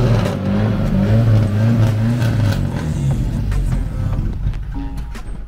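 Rare old Volkswagen engine running at close range, a low rumbling drone with wavering pitch that fades slightly toward the end, no talking.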